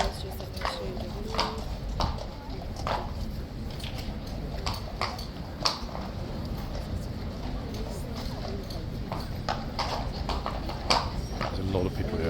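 Horse hooves clip-clop steadily on the road at Horse Guards in London, a sharp rhythmic series of near strikes under constant crowd chatter and voices throughout.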